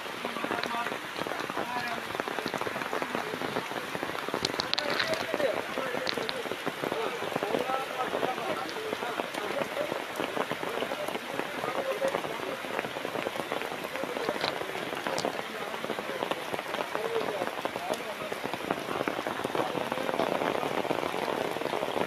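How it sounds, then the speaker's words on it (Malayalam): Heavy rain pouring down steadily beside a rising river, a dense, even patter of drops striking surfaces all around, loud and continuous with no talk. "മഴയുടെ തീവ്രത വർദ്ധിച്ചു വരുന്ന സ്ഥിതിയാണ് നിലവിലുള്ളത്."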